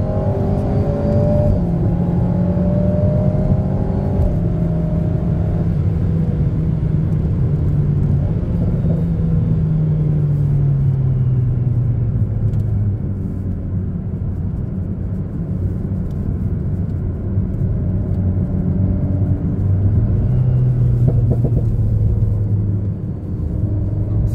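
A throaty Alpine A110S engine drones loudly from inside the moving car, its pitch rising and falling as it accelerates and shifts gears, no speech.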